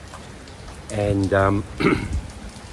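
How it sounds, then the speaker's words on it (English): Heavy rain from a super typhoon falls in a steady, close hiss behind someone speaking, alongside the gusting wind of the storm. "it has started raining"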